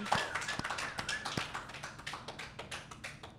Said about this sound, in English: If we can all just give Glenn like a huge, loving round of applause.